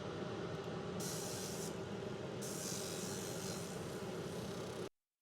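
Fiber laser engraver working on coated plastic at a tumbler setting, giving a steady, close hiss and rasping buzz that runs throughout, with brighter high bursts switching on and off, then cutting out abruptly near the end.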